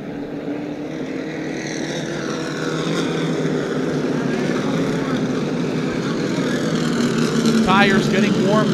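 Super late model race cars warming up at a track before a memorial 100-lap feature, a steady layered engine drone from several cars that swells slightly louder toward the end, with faint chatter under it.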